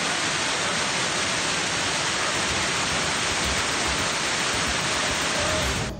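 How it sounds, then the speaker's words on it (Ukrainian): Floodwater after a torrential downpour in Odesa pours down in a garden like a waterfall, a loud, dense, unbroken roar of rushing water filling the whole clip. "А цей шалений водоспад утворився посеред городу."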